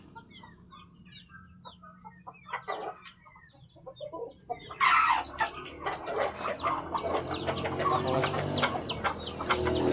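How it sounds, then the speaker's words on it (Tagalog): Several chickens cluck close by, starting sparse and growing into a busy, overlapping chorus of clucks toward the end. "yan yung kabuuan natin, guys, na mga manok."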